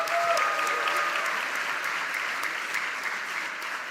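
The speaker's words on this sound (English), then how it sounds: "Just one more round of applause for every single graduate." A graduation ceremony crowd applauds the graduates, a broad wash of clapping that starts full and slowly thins and softens over a few seconds, with no voices on top.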